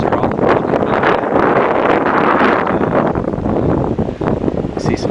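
Strong wind on a hilltop buffets the microphone in a loud, continuous roar, with gusty rumbling throughout.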